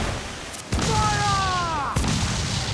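Ship cannons firing in the pirate game Assassin's Creed 4: Black Flag, with sharp loud booms at the start and near two seconds over a noisy battle din, a descending whistle between them as a shot flies.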